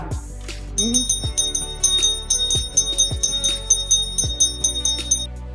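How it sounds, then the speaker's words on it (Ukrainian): An electric school bell rings in rapid continuous trills at a last-bell ceremony, broken into several bursts, with low thumps and background noise underneath. "Дзвени нам дзвонику"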